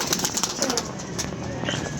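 Pigeons let out of a loft into the open, one of a flock of 17, coo softly at close range in short repeated calls over a steady outdoor hiss, with a brief hint of wingbeats.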